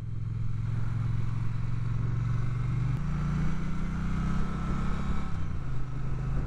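An Aprilia RS 660 twin-cylinder motorcycle rides at steady speed, its low engine drone loud and continuous, with a brief shift in pitch near the midpoint and a faint clatter over the top.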